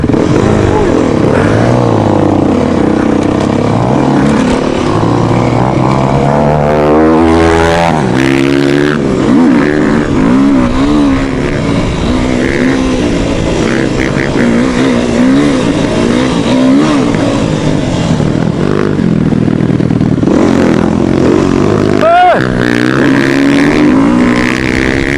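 A Yamaha Raptor quad bike engine revs loudly and close, its pitch sweeping up and down through repeated throttle pulls without a break for about twenty-five seconds.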